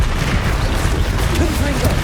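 Confringo explosion spell in the Hogwarts Legacy video game, heard as a dense, continuous rumble of blasts and booms at steady loudness, with game voices mixed in.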